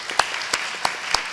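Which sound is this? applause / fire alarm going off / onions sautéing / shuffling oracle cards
applause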